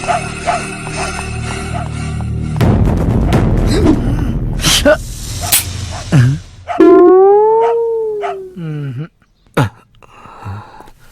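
A dog howls in long, wavering, rising and falling tones near the end of a kids' comedy skit, following a noisy stretch of talking and commotion.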